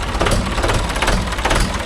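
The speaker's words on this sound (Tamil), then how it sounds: "ஸ்டார்ட் பண்ணி காட்டுறோம், விட்டு ஓடும் இன்ஜின்." A Mahindra 575 DI tractor diesel engine idles steadily and loudly nearby, a continuous low rumble with a faint knocking pulse and no voices.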